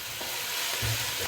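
Sliced onions sautéing with salt in a pan, being stirred while they cook for a biryani masala; a soft, steady sizzle with light scraping and stirring noises, no voices.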